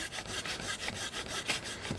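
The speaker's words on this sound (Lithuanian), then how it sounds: "Šitą reikia nupjauti." A hand saw cuts through wood during a river trip, with steady, rhythmic back-and-forth strokes, close and fairly loud, with no other sound.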